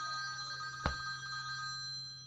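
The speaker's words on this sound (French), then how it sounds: "Téléphone rétro" Retro telephone ringtone playing on an iPhone, a bright sustained electronic ring with one sharp clicking burst partway through, steady and close.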